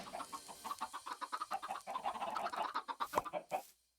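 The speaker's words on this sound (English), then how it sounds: "That's what you get, chicken." Chickens in the video game Slice of Pi 2 cluck in a rapid, dense run of short calls, close and steady for several seconds before stopping abruptly.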